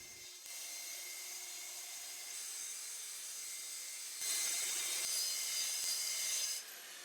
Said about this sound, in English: The easiest way that I know to break this stuff down is to use an old blade and the track saw.